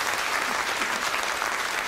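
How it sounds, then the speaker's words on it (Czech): An audience applauds in a lecture hall after a Czech reading from Shakespeare's The Comedy of Errors, a dense, steady burst of many hands clapping close and loud throughout. "Tleskali jste české řeči"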